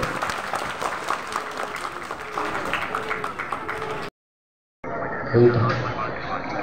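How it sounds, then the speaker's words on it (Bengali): An audience at an art competition prize ceremony applauds in a loud, sustained burst, with a voice speaking over it, then a brief cut to silence followed by more crowd noise. "সবাইকে বলবো একটা জোরে হাততালি দেওয়ার জন্য"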